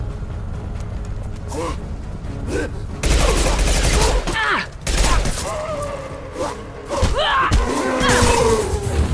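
Gunfire in Mass Effect 2 comes as bursts of shots and heavy thuds, loud and close, scattered through game combat with voices speaking over the action.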